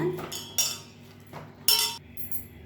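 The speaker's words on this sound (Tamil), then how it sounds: "இதை நல்லா மசிச்சு விட்டுக்கலாம் நம்ம." A ripe small banana mashed in a bowl with a spoon gives a few sharp metallic clinks and soft scraping taps, spaced irregularly and heard up close.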